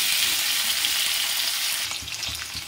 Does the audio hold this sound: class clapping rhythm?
no